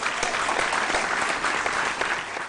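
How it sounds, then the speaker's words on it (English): Dense, sustained applause from a quiz show audience at a school quiz contest between Holy Child School and Tamale Girls SHS, steady and fairly close throughout with no talking. "A round of applause for them, please."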